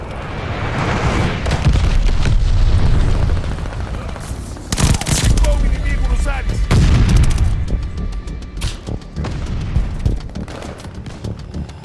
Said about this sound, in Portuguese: Bomba planadora inimiga!